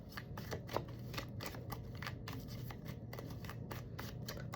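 A deck of cards is shuffled repeatedly at close range, giving quick riffling bursts and soft flicks in an uneven rhythm, fairly quiet with no talking.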